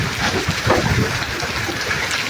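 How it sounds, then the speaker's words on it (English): Golf ball-size hail pounds the roof of an RV being driven through a hailstorm in Bend, Oregon, making a dense, steady clatter of hard impacts that stays loud and continuous throughout. "Christy Perkins sent us this video, driving an RV through the hailstorm."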